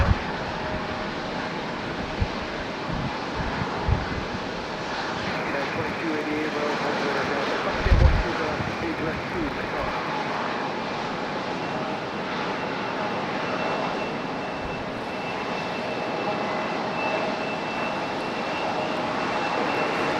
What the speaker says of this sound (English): Air Canada pilot cam here as they turn and make their way to the gate